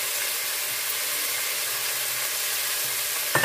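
Washed rice dropped into hot oil with whole spices, cardamom, cloves, nutmeg, mace and bay leaf, sizzling in a steady, even hiss close by with no talk.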